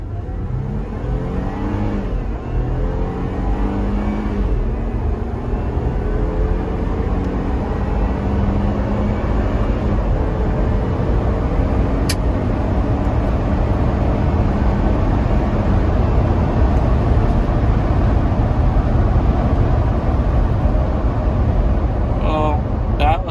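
A Jeep Gladiator or Wrangler roars hard and continuously through a quarter-mile acceleration run, its engine loud and steady from start to finish with a faint voice beneath it.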